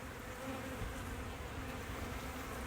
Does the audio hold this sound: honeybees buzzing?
yes